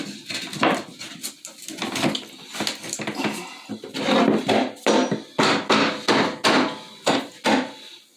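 Repeated heavy hammer blows ring out, irregular at first, then a steadier series of loud, sharp strikes with short pauses between.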